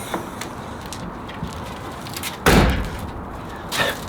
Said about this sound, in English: let's go ahead and see how it is to close this door